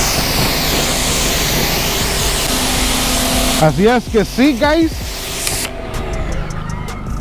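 A pressure washer hisses loudly and continuously as it sprays Koch Chemie active foam off a car's paint, a broad steady roar that eases near the end, while someone talks over it partway through.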